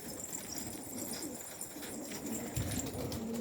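Pigeons coo in a low, continuous murmur from nearby, with a steady background hum and a slightly louder throaty stretch near the end; no voices.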